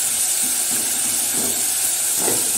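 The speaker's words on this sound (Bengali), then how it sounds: "টমেটো দিয়ে মশলা কষাচ্ছি" Masala of tomato, garlic, ginger and onion frying in a pan gives a loud, steady, close sizzling hiss, with faint soft stirring thumps underneath.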